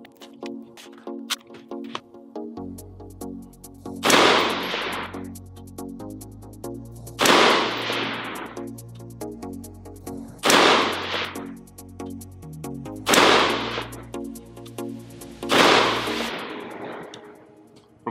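A SpecOp TMK15 budget AR-15 rifle in 5.56 fires new match ammunition, five loud, sharp shots spaced roughly three seconds apart, each with a brief echoing tail over a steady low hum.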